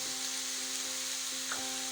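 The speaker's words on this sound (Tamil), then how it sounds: "வெங்காயம் நல்லா கோல்டன் ப்ரௌன் ஆற வரைக்கும் நல்லா வதக்குங்க" Onions and spices sautéing in a pan for a baby corn masala, a soft continuous sizzle with faint stirring scrapes, close and steady throughout.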